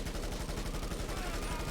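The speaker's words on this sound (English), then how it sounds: "I was just firing my machine guns into nothing." Rapid machine gun fire in the video game GTA V, a dense continuous burst of shots fired in quick succession, loud and close.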